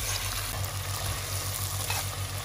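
Red onions sauté in a pan with a steady, close sizzle and occasional stirring, the frying noise continuous throughout with no voices.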